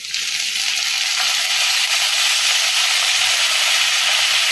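Soy sauce poured into frying capsicum for a Chinese-style egg chilli hits the hot pan with a loud, continuous hiss and sizzle that holds steady from start to finish, with no talking.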